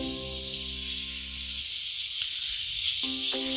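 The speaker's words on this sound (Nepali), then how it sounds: "केही बेर फ्राई गरौँ प्याजलाई" Onions with garlic ginger paste sizzle steadily in a hot pan, a close, bright frying hiss with a brief stir, while a low background tone drops away partway through.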